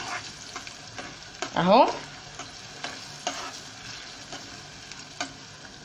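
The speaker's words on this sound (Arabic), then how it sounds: "كده الزيت اهو بيتقلي زي البطاطس في الزيت" Oil frying in a pan while cooking a large batch of shop-style Egyptian koshari: a steady, faint sizzle throughout, with a brief squealing stir or scrape standing out near the middle.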